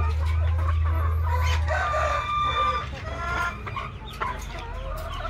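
Dekalb Brown hens clucking loudly and close by, with a rooster crowing among them and a constant low hum underneath.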